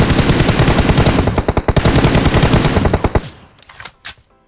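Rapid automatic gunfire bursts loud and close for about three seconds in PUBG Mobile, then a few scattered single shots trailing off.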